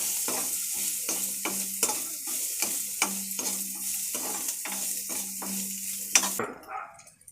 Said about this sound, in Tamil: நல்லா இஞ்சி பூண்டு பச்சை வாசனை போகணும், நல்லா வதக்கணும்.